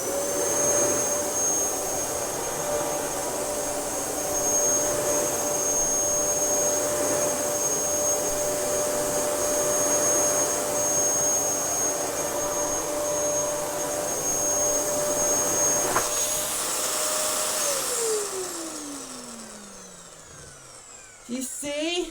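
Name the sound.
Dyson DC07 Animal vacuum cleaner running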